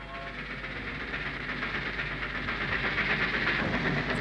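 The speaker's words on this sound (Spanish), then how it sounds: "El tren llega puntual." An animated cartoon steam train arrives in the Wild West town of Broken Spoke with a continuous rumbling chug and broad hissing steam that swells slightly toward the end, loud and close.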